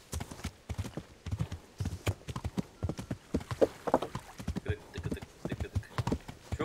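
In Kingdom Come Deliverance, a horse's hooves beat out a quick, regular clip-clop up close, the sharp strikes continuing without pause throughout.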